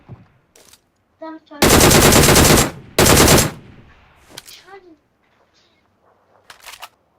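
Gunfire in the BGMI mobile battle game comes in two long, loud automatic bursts, with a few shorter shots and faint voices in the quieter gaps.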